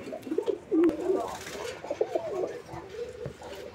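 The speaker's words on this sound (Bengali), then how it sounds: "তো এটা হচ্ছে নান কবুতর একটা জোড়া।" A pair of Nun pigeons cooing, a run of low, throaty warbling coos close by, fairly soft, repeating over a few seconds without talk.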